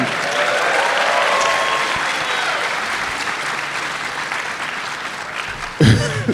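Steady applause from a fan convention crowd fills the room for several seconds at an even level, ending in a brief louder clatter of handling noise.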